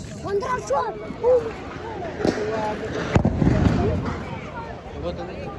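Diwali sky shot fireworks pop in a series of sharp bangs and crackles amid excited voices and lively chatter close by.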